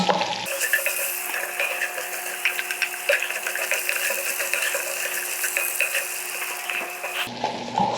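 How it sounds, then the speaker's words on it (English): Potatoes being stirred in hot bacon grease give a steady, dense sizzle, close and fairly loud, with scraping stir sounds scattered throughout and no talking. "We wanna slowly add them, that way we can stir and get the bacon goodness all over"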